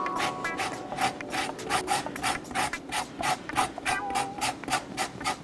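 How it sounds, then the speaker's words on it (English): Fresh lemon being rubbed across a grater for zest in a home kitchen, a steady run of close, rasping scrapes in an even rhythm with no talking. "I'm grating the fresh lemon."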